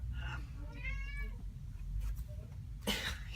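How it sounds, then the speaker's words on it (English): A male house cat meows close by indoors: one drawn-out, wavering meow, then a couple of shorter, softer calls over a steady low background hum. "My cat is meowing at me."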